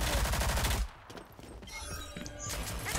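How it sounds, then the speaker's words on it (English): Rapid gunfire in a video game rattles loud and dense for under a second, then gives way to quieter scattered game noises. "I'm trying to hear footsteps and all I hear is gunshots."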